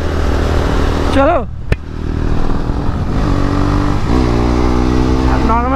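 A Yamaha R15 motorcycle revs hard and accelerates up through the gears close by, its engine note climbing in repeated rising sweeps with short drops at the shifts, under wind rush and someone talking.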